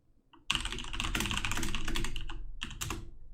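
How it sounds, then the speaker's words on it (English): Rapid clicking keystrokes on a computer keyboard start after a short quiet moment and run on in a dense, close burst with a brief pause near the end. "What would I type in to find that?"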